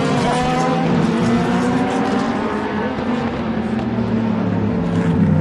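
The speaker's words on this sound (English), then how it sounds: "The Corvettes really rumble, don't they" A Chevrolet Corvette race car rumbles past on a racing circuit, a deep, loud, steady engine roar with other car noise mixed in, holding near-constant intensity throughout.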